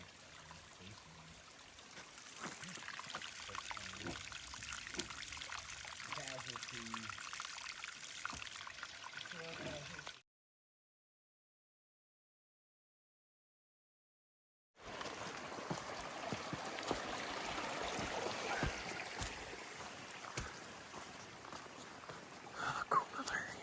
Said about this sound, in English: Well, there's the water source.